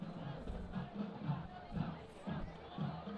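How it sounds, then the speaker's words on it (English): Crowd at a high school football game between North Shore and Spring Westfield, a steady murmur of many voices with periodic swells of cheering and shouting from the stands. "there's a great crowd tonight on both sides"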